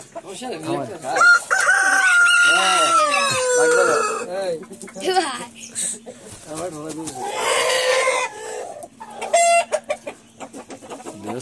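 Large fighter-breed chickens on a farm cluck close by as a rooster crows long and loud, then crows again a little later. A person talks intermittently among the birds.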